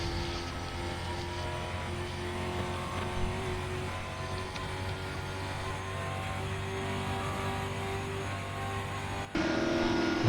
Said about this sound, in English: The number 24 Hendrick Motorsports Camaro.